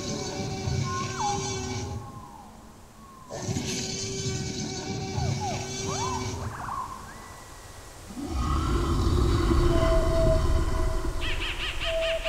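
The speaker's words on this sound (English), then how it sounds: "Can you hear the Parasaurolophus?" A Parasaurolophus dinosaur call sound effect in a jungle scene: repeated honking, swooping tonal calls in several bursts separated by short pauses, fairly faint and layered over background ambience.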